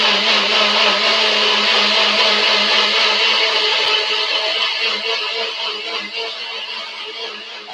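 A blender blitzing thick curry paste runs in a loud, steady whir from start to finish, easing slightly toward the end, with no talking.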